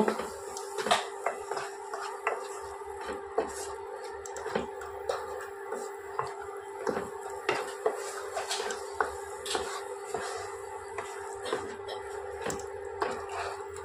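A spoon stirs mushroom masala frying in a pan, giving scattered metallic clinks and scrapes at an uneven pace over a steady low hum. The sounds are close and fairly quiet, and nobody speaks.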